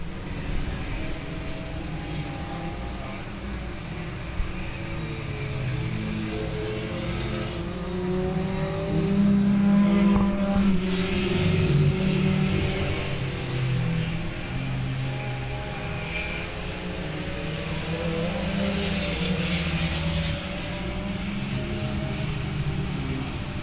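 Race cars circling South Texas Speedway in an evening race, engines droning and rising and falling as they pass, forming a continuous moderately loud roar with no talk over it.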